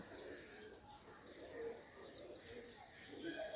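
Kaldom and panja breed pigeons coo softly in short, repeated throaty calls, fairly faint against a low background, with a few chirps mixed in.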